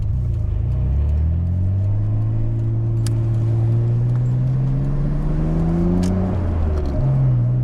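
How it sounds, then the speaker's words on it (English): A Nissan Skyline R32 GTR accelerates with a loud, steady engine drone that rises in pitch as the revs climb, then shifts gear and drops near the end, heard from inside the car. "when the turbo kicks in, you just hear it and it starts spooling"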